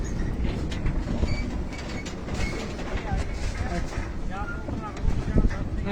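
A ropeway cable car running at Jogindarnagar, Himachal Pradesh: a steady rumbling drone of the moving cabin with scattered creaks and wind buffeting, heard up close and unbroken.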